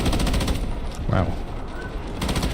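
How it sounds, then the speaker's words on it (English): Sustained machine gun fire rattles on in the Delta Force warfare game, loud and unbroken, with a voice speaking over the barrage for part of the time. "Much bullets, many miss."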